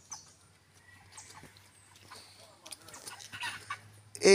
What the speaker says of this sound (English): Ailey, look at the chickens